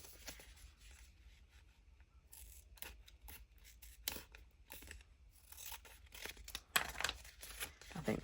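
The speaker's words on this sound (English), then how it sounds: "I'm gonna use my my Tim Holtz scissors" Tim Holtz scissors snip and slice through paper while junk journal pages are prepared. The quiet cuts and rustles come in irregular bursts, with soft handling noise and some faint talk underneath.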